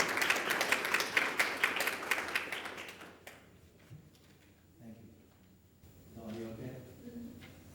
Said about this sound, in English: a nice warm round of applause for Mohamed Abdel Dayem